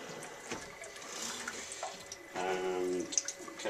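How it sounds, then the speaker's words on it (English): A freshly developed PCB is rinsed in a wash tank, giving a soft, steady splashing and trickling of water that swells slightly toward the end, with no talking. "I'm going to wash it in the wash tank."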